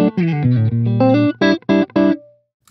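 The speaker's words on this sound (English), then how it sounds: "So this is the sound of the Cub Super Top without the reverb." Electric guitar played dry, with no reverb, through a Laney Cub Super Top amp: a run of clean sustained notes, then three short choppy chords and a brief decaying tail, close and loud.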